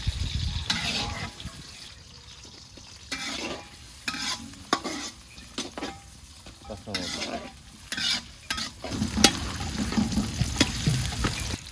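Onions fry in hot oil for a home-cooked broiler cock biryani, with a steady sizzle and bursts of stirring and scraping in the pan, up close, while people talk intermittently nearby.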